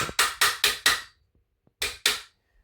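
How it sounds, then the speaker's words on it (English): A mallet taps a part into place while assembling a Swell Reptiles PVC vivarium, four quick close knocks in a steady run, a pause, then two more, with no talking. "with a handy dandy mallet"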